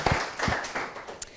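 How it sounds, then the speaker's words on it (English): Scattered claps from a lecture audience at an IP Osgoode talk, a few sharp separate hand claps and taps spread across a short moment, close and sparse rather than a full ovation. "So a big round of applause to all of our supporters."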